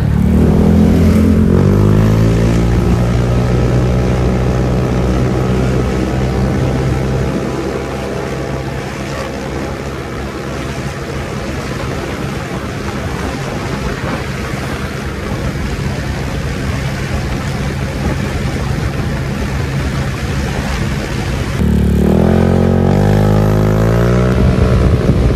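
Honda PCX 160 scooter with upgraded CVT accelerating, a loud close engine drone with rising harmonic sweeps at start, settling into steady running, then another revving climb near the end.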